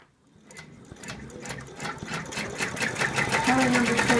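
An embroidery machine stitches an in-the-hoop zippered purse with a fast, steady mechanical patter that builds in loudness, while a person talks over it.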